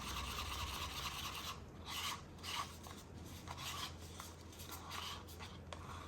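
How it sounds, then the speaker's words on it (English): A leftover pigment stick scraped close up, with continuous gritty rasping strokes that pulse in uneven passes, loud and alone with no talking. "I'm just scraping because I don't want my piece spoiled, even if it is just a leftover pigment piece."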